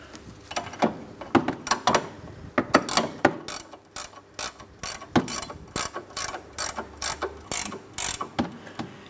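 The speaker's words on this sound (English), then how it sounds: "let's tighten the lower ball joint mounting nut" A ratchet wrench tightens the lower ball joint mounting nut on a 2003-2007 Cadillac CTS front lower control arm, giving loud, close, rapid clicking in rhythmic bursts of repeated strokes.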